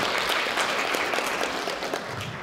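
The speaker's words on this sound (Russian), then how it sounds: "Ваши аплодисменты!" Audience applause at an amateur staff concert celebrating International Women's Day, a dense steady clapping throughout, with no talk over it.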